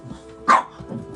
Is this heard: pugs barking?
yes